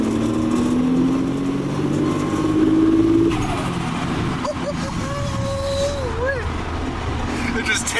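A Nissan Skyline R34 engine cruising at around 2,000 RPM, giving a steady, loud, close droning hum with a slowly rising pitch and then a shift to a lower, rougher tone, with no talk over it.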